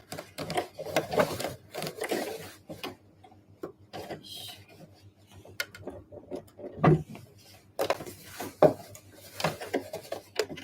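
Domestic sewing machine stitching along the edge of a convenience-store-size eco bag, running in short bursts of rapid ticking with pauses between them, fairly quiet and close.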